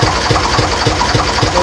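Engine of a Nordest cable shovel running steadily at idle, a loud continuous low rumble with regular rhythmic pulses, close by and alone without talk.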